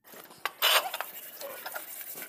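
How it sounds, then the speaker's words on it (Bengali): Dishes, pots and pans clink and clatter as they are quickly washed, with a loud scraping burst early on, then lighter scattered knocks and rattles that carry on alone. "তাড়াতাড়ি করে বাসনগুলো ধুয়ে নিই"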